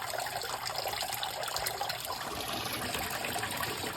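Water flushing out of a Honda 150 outboard motor through a garden hose during a purge, a steady close trickling and splashing stream that runs continuously, with no voices.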